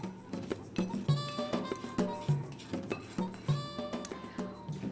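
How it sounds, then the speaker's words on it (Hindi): Roasted whole spices tipped into a mortar and pestle, producing a run of close, rhythmic hard knocks and clinks of stone and grains at roughly half-second intervals. "तो सारे मसाले आप अपने पेस्टल और मोटर में डाल दें"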